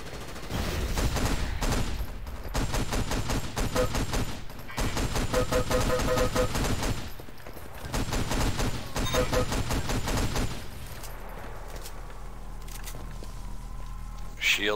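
Rapid, dense gunfire from Enemy Territory: Quake Wars fills most of the stretch in long loud bursts broken by short gaps, then drops to a quieter rumble near the end.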